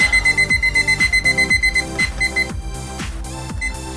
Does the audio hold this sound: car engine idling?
no